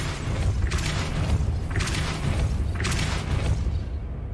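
A Depulso force spell is cast in Hogwarts Legacy, three evenly spaced whooshing thrusts about a second apart over a steady low rumble, loud and close, with no talk.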